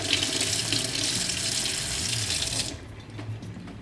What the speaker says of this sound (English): Then you simply take water and clean out thoroughly